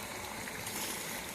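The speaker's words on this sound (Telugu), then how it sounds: "కొంచెం వాటర్ వేసి" Water is poured into a pan of fish curry cooked with raw mango, a steady soft splashing rush that fills the short moment without pause.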